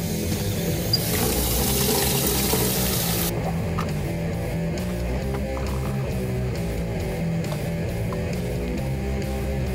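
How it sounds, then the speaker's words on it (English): Water pouring from a tap into a spark bucket in a knife-making workshop, a loud rushing fill that drops to a lower steady flow partway through, alone without talk. "I gotta go put some water in the spark bucket."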